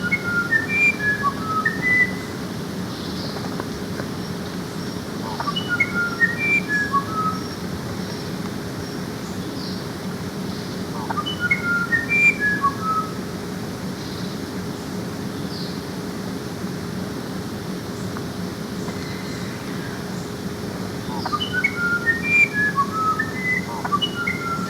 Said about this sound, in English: It's a wren, is what we call it in English, a type of wren.